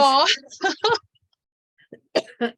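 A person clears their throat and coughs in a few rough, voiced bursts close to the listener, separated by brief pauses.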